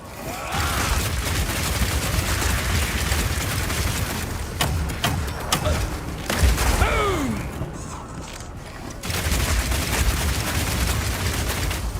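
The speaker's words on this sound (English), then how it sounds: "I'm going to charge up the heat on my crossbow, shoot out a bunch of grenades, and then start the fireworks with a Power Shot." Crossbow shots, grenade blasts and a charged Power Shot from a Mercenary fighting in the action RPG Path of Exile 2, a dense barrage of mechanical clicks, thuds and explosions, loud and continuous with a brief lull near the end.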